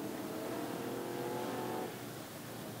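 Street stock race cars roar steadily toward the finish line at a speedway, a loud sustained engine drone that eases off slightly near the end, with no voices over it.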